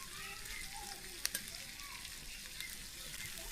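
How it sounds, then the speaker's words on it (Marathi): Chilapi fish frying in oil on a pan over a wood-fired stove, a steady broadband sizzle throughout with a couple of brief clicks near the middle, no talking. "ते थोडं फ्राय करून घेऊ आणि सगळे मासे ते हळूहळू पलटी मारू आपण"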